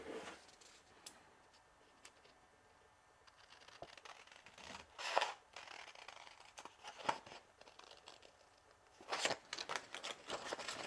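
Scissors cut out traced paper shapes at a craft table, giving a series of close, crisp snips and rustles spaced irregularly, with a few sharper cuts standing out.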